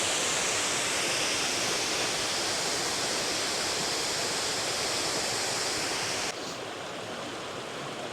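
Siklawa waterfall in the Tatra mountains pours with a dense, constant hissing roar, loud and close, dropping abruptly to a duller, quieter rush near the end.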